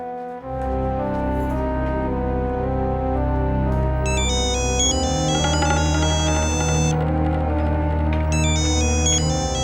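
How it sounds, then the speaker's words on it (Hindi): A telephone rings on and on with no answer, a bright electronic ringtone repeating its tonal pattern loudly over a steady musical backdrop for the whole stretch, with no one speaking. "फोन का उत्तर क्यों नहीं देते तुम?"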